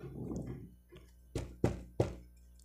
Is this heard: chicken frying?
no